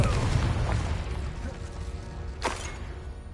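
Confringo fire blast spell from Hogwarts Legacy on PS5, a rumbling explosive boom at the start fading into a dense roar, with a sharp whooshing burst near the end under the game's ongoing sound.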